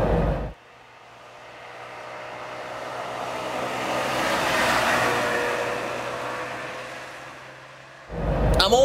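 A Trabant 601S is driven through traffic, its small engine giving a steady whirring drone that swells gradually in the middle, with short louder bursts at the start and end.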